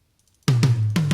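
Three deep, booming hits on a 22 by 18-inch GMS kick drum, dry and unprocessed, each with a low resonant tail; the first two close together, the third after a short pause.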